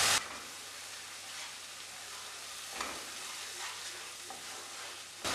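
Spice masala with green chillies fries in oil for a Kerala-style sardine chilli curry, giving a steady, close hiss and sizzle with occasional stirring scrapes and a louder knock at the start and end.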